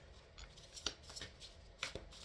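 A new deck of Halloween-themed oracle cards being shuffled, giving faint, soft riffling and a couple of sharper card snaps, quiet and close, with no talking.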